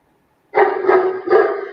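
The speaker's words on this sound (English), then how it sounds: "you could hear the dog react" Dog barking in reaction to a whistle, three quick, loud, close barks in a row after half a second of silence.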